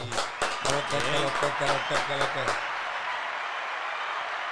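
Brief clapping in a radio studio booth welcoming a rap guest, sharp claps over a backing beat and talk for a couple of seconds before a softer hiss of room noise takes over.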